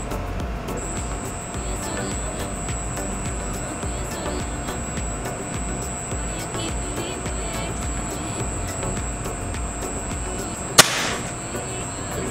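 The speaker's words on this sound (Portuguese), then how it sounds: "Primeiro disparo foi." A single sharp crack from a CBC B19X air rifle shot at an outdoor range, heard once near the end above a steady background hum and a faint high whine.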